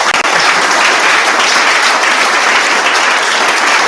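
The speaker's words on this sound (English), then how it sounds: "So one last round of applause for them." A round of applause for a fraternity association's board and advisors at a FarmHouse Founders Day gathering, loud steady clapping from a room full of people, continuous and close.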